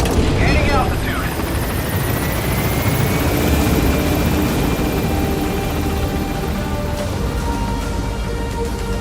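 A helicopter in the Metal Gear Solid 5 video game climbs to altitude, its loud, steady rotor thrum and turbine whine filling the scene continuously, with a brief rising electronic tone near the start.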